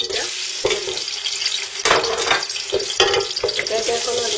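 Chopped onion frying in hot ghee, a steady bright sizzle with a few sharper spatters and stirring scrapes, close by and continuous with no talk.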